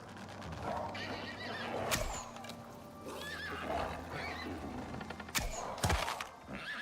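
A horse in the video game Icarus neighs several times, with sharp whinnies and heavy hoof thuds and knocks in between, close and fairly clear.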